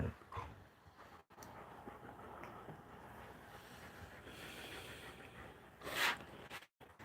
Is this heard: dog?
yes